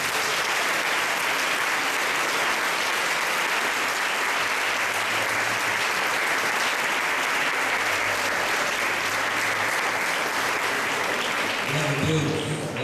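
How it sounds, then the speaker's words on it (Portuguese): A church convention audience claps in sustained, dense applause to welcome a pastor, loud and even for about twelve seconds before tapering off, with voices mixed into the crowd. "Receba o pastor Marcos Batista com a salva de palmas."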